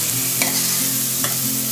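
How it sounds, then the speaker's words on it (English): Grated ginger sautéing in hot oil gives a steady, even sizzle with a couple of brief scraping stirs, close and continuous without voices. "Add the ginger, grated ginger. and saute till it's cooked completely."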